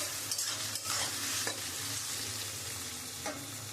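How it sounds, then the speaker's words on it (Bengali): Onions fry in oil, browning for a mutton curry, with a steady dense sizzle and the occasional scrape of a stirring spoon in the pan, heard up close with no talk. "আমি এই তেলের মধ্যে আমি পেঁয়াজটা একটু লাল লাল করে ভেজে নেব।"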